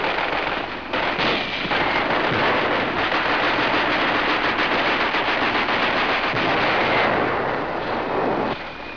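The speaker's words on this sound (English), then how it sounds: "Rifles, machine guns," Wartime rifle, machine gun and bazooka fire in a battle near Bastogne, a dense unbroken roar of rapid bursts and heavy blasts that stays loud throughout, then fades slightly at the end.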